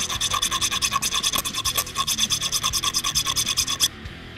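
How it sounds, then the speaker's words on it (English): A metal file rasps back and forth across the sharp cut edge of a trimmed hose clamp during a Roush supercharger install on a 2015-2017 Mustang GT 5.0L. Quick, steady strokes repeat close up for about four seconds, then stop. "If you're left with a sharp edge, you wanna file it down and make sure it doesn't cut the hose."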